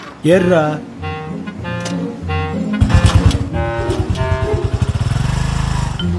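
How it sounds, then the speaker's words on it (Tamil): A vehicle engine cranks and catches after a few quick turns, then settles into a rapid, evenly pulsing idle that grows louder, with voices talking over the start. "இன்ஜின் ஆன் பண்ணு"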